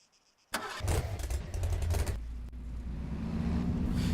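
Dodge Charger Slick Top starting up in a video game: after a short quiet moment the engine cranks and catches with a loud burst, then settles into a rough, steady idle rumble.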